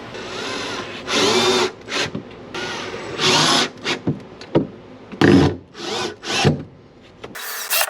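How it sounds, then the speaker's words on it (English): A power drill driving screws to fasten a board to the floor of a Volkswagen Vanagon during a van build, with repeated short whining bursts of varying length, close and loud, separated by brief pauses. "just going to square up this board and then screw it down"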